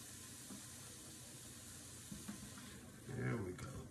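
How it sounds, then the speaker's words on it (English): Holy trinity vegetables for Louisiana dirty rice sauté in a pan with a soft, steady sizzle that swells briefly near the end, likely as they are stirred, with no talking. "We're gonna give this a quick little saute."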